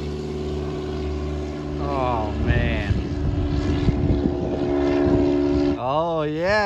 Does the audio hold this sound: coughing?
no